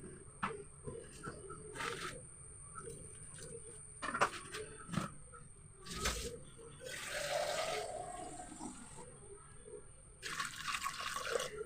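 Water poured into a pressure cooker holding chillies, turmeric, salt and chilli powder, with splashing and running-water bursts at a moderate level, close by and without talk.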